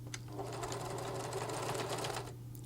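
A sewing machine runs a quick continuous burst stitching a seam in fabric for a sun dress, its rapid mechanical hum and needle chatter close and steady before stopping near the end.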